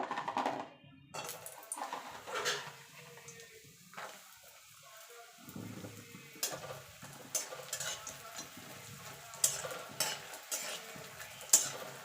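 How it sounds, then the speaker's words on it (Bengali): Bori lentil dumplings frying in hot oil in a pan, a soft intermittent sizzle broken by clinks and scraping of a utensil stirring, fairly close but quiet, with no talk. "এখানে কটা বড়ি নিয়েছি, বড়িগুলোকে আগে ভেজে নেব।"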